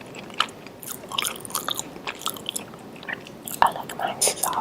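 Someone chews and bites into soft, crunchy cookies up close, making a quiet run of irregular crisp crunches and small clicks.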